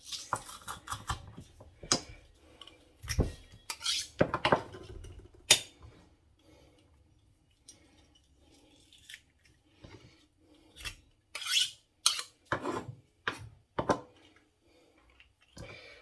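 Garlic being crushed while cooking in a caravan, heard as a series of short, close crunching and rasping bursts scattered irregularly between quiet gaps, with no talking.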